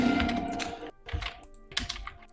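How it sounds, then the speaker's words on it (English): Rapid keyboard typing during a Dungeons & Dragons 5E tabletop session, bursts of clicking keystrokes close to the microphone with pauses in between. "I can hear someone furiously typing."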